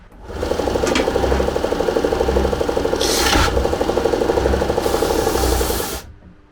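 A Procraft OSS500 oscillating spindle sander runs loud and close with a steady rhythmic rasping pulse and a couple of brief grinding flares, then winds down and stops.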